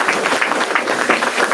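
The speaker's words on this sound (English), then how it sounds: "Let's give Dr. Hill a applause." Applause for Dr. Hill at a grand opening and ribbon-cutting ceremony, a loud, steady wash of many hands clapping together, continuous throughout.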